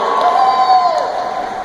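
A crowd at a wrap party event cheers and whoops loudly, a dense burst of shouting voices with a few high yells rising above it, close and sustained throughout.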